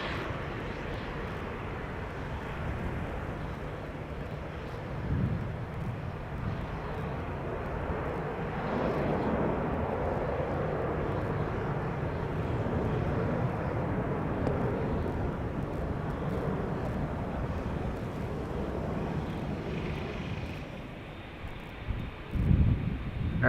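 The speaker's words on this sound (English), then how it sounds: "Dreamliner to Toronto" Air Canada Boeing 787 Dreamliner taking off from Schiphol's Polderbaan runway, a loud, steady broadband jet roar that builds and holds for the whole stretch, with some wind buffeting and a few thumps near the end.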